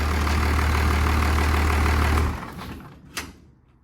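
A 1940 truck with a Cummins engine idles loudly and steadily with a deep rumble, then winds down and drops off to a quieter tail with a brief knock near the end.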